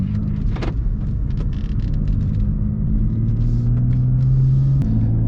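A 2018 F80 BMW M3 Competition with DCT gearbox pulls away from a standstill, its engine a steady loud rumble inside the cabin that rises slightly in pitch as the car gets moving.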